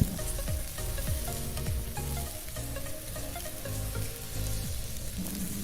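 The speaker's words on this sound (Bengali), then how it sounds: "সব গুঁড়ো মশলাগুলোর সঙ্গে মশলা আবারও ভালোভাবে কষাবো।" Ground spices, including roasted cumin and Kashmiri red chilli powder, fry in oil for a cauliflower curry, a steady close sizzle broken by repeated scraping strokes of a spatula, with no voices.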